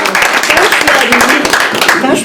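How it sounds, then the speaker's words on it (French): Applause from an audience at a press conference on women in the maple syrup sector, a dense, even patter of many hands clapping throughout, fairly loud and close. "Je pense qu'il faut les applaudir."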